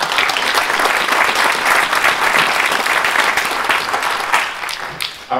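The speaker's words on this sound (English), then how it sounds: "I think we all deserve a round of applause for that." Loud, sustained applause from a crowd at an awards event at the New York Historical Society, dense clapping that holds steady and then tapers off near the end.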